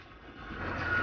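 A forklift at a junkyard lifting cars onto metal racks, its engine rising from quiet to a steadier drone and a thin electronic reversing beep starting near the end.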